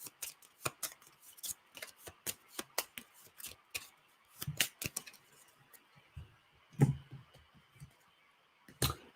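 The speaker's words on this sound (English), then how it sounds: "So I'm going to shuffle these and see what we get." A deck of cards being shuffled for a tabletop game: sharp ruffling bursts and quick riffles with frequent crisp taps, close and fairly quiet, repeating irregularly with no voices.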